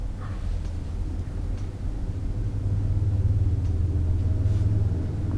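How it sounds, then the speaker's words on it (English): Cars driving by outside in daytime: a steady low rumble of passing traffic that swells slightly midway, heard faintly from indoors with no voices. "Cars are driving by."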